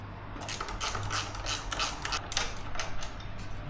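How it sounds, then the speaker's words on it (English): A 12 mm wrench working the brake pedal bolt on a Honda CB125R motorcycle, giving quick repeated ratcheting clicks and metallic creaks up close, with no talk. "So it's gonna be a 12 mil wrench."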